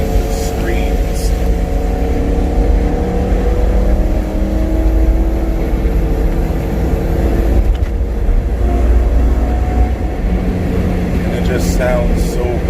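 A loud, steady BMW E92 M3 engine roar with X-pipe exhaust fills the whole stretch in a tunnel, rising in pitch as it revs, with voices talking over it.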